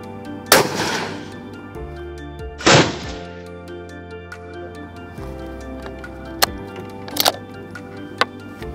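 Rifle fired through a Hikmicro Cheetah 32 RL thermal scope during summer predator hunting: two loud, sharp shots with ringing tails a couple of seconds apart, followed by faint clicks and small knocks.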